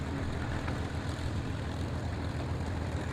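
P-51 Mustang aircraft engine, a steady broad droning roar that holds constant and fairly loud throughout, with no voices.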